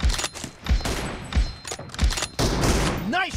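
M24 sniper rifle firing in a mobile shooting game, several sharp, loud shots spaced roughly half a second apart, with a rising electronic game tone at the end and voice callouts between shots.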